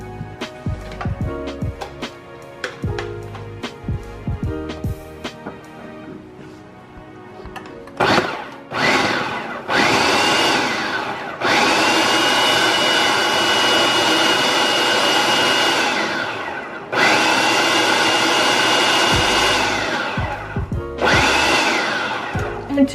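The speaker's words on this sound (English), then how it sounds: "And we're gonna pulse the processor." A food processor blitzes empanada dough in repeated loud pulses, each burst running a few seconds before stopping. Quieter clattering and handling sounds come before the pulses.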